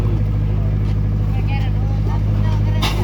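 A concrete finishing machine on a rigid road pour in a remote area runs as a loud, constant low motor hum with steady tonal harmonics, and a person talks over it.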